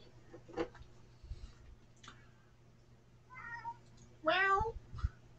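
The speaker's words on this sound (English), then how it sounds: "Kitty cat." A domestic cat meows several times, short rising calls with one louder, drawn-out meow near the end, heard fairly close over a quiet background hum.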